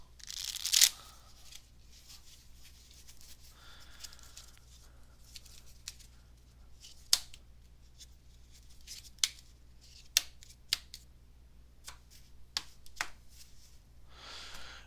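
Soft riffling and snapping of playing cards being shuffled, with several sharp clicks spread out over quiet background, close by.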